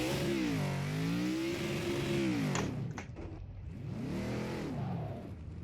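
A car engine in the racing game Project Cars 2 during heel-toe downshifting, steady rising and falling revs with sharp throttle blips and gear changes, loud and close with no talking.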